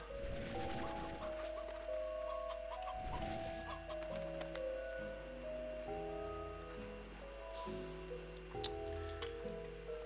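Chickens clucking in the video game Slime Rancher, soft scattered clucks and calls over a low steady hum and tonal game music, faint and without speech.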